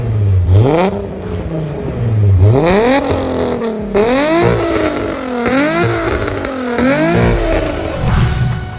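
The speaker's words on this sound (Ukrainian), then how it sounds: "Звучання в двигуна VR6 і досі змушує серця фанатів битися швидше." A Volkswagen Golf VR6 engine revs repeatedly, its pitch climbing in a series of rising sweeps as gears shift, loud and close, with no talking.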